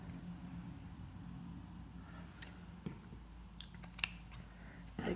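Small scissors snip at a yarn bunny-tail pompom, a few faint, quick cuts scattered over quiet room noise, growing slightly more frequent toward the end.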